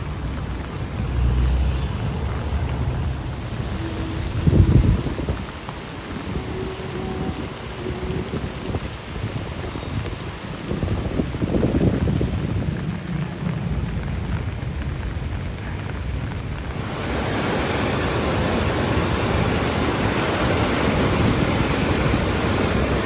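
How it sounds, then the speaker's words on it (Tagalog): Floodwater rushes steadily from a drainage outlet into the swollen Marikina River, with rain noise and a few low thumps; the flow grows louder and fuller toward the end. No speech. "Yan yung ragasa ng tubig mula dito sa drainage palabas ng mismong ilog."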